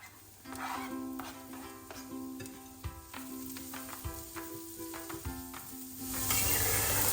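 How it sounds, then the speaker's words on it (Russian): Vegetables sizzling and frying in a pan at moderate volume for a soup base, with occasional stirring clicks and scrapes over a faint musical background. "я приготовлю зажарку"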